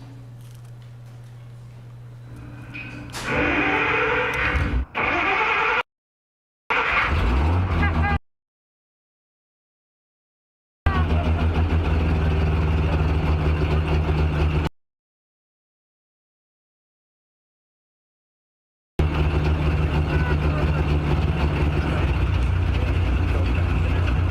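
A modified Jeep engine cranks, catches and settles into a loud, steady running rumble close by, with several abrupt silent gaps where the sound cuts out before the engine noise returns.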